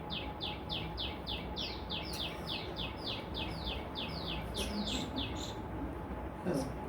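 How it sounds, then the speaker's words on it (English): A bird chirps in a rapid repeated series of bright tweets, then gives a few scattered higher calls, moderately near against a soft background hum. "Nice bird."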